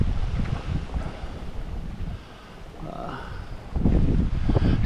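Hurricane Helene's tail-end wind blows near a boat lift by the water, heavy gusts buffeting the microphone in loud rumbling bursts that ease off briefly in the middle, then surge back harder.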